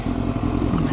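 A motorcycle ridden by a first-time rider pulls away in third gear, its engine droning loud and steady with a rough, uneven low rumble close by.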